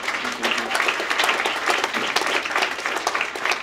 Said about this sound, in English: So let's give them a round of applause for